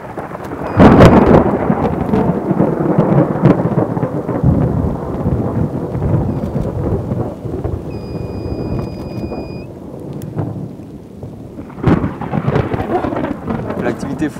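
Loud thunderstorm with heavy rain and strong wind buffeting the microphone in Tornado Alley, with rumbling thunder bursts near the start and again toward the end, no talking.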